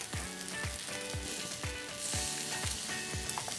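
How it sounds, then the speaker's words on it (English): Wagyu beef sears on a home yakiniku grill, a steady close sizzle running under repeated low clicking or tapping knocks at a regular beat, with no voices. "You see, it develops a nice sear. Look at the nice sear already."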